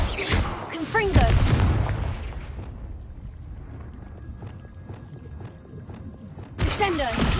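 Confringo fire spell explosions from Hogwarts Legacy burst out with loud booming blasts, a dense eruption at the start that fades into a quieter rumbling stretch, then another sharp burst near the end.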